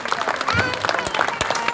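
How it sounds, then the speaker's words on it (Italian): Audience at a poetry book presentation breaking into applause, a short burst of dense clapping from a crowd in a room, mixed with a speaker's voice. "raccolta di poesia di Giovanni Monaco, a cui farei subito un grande applauso"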